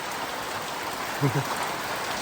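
Steady rain patters densely on a surface, a constant hiss throughout with a brief low voice murmuring midway.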